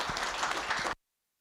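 A ceremony audience applauds at a stock exchange listing in Victoria Falls, a dense burst of many hands clapping at once for about a second before it cuts to silence.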